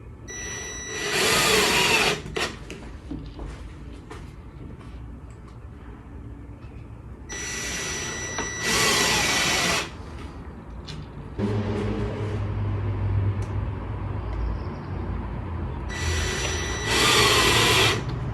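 Power screwdriver driving screws into a mahogany-coloured window glazing profile on a double-glazing job gives three short, loud whirring bursts separated by quieter handling and background noise, with no talking.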